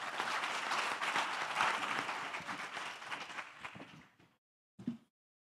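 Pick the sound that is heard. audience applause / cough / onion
audience applause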